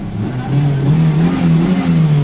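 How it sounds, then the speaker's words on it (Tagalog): A Mitsubishi Lancer GLXi engine idling after repairs that included distributor, servo, computer box and fuel regulator work and cleaned injectors. It gives a steady, close, loud hum whose pitch rises slightly and settles, with no voices. "So ayan ay makina niya oh."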